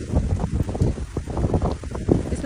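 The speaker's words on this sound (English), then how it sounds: "Oh, that was a nice gust." A strong gust of wind from Cyclone Fina roars and buffets the microphone, loud, continuous and blustery throughout with no talk.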